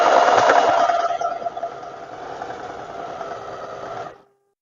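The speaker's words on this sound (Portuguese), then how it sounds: "vamos fazer uma costura aqui reta, onde a gente alfinetou, nessa primeira lateral" A sewing machine stitches a straight side seam through a tailored vest's lining and main fabric, running steadily and close with a fast whirring hum that eases slightly midway before stopping abruptly.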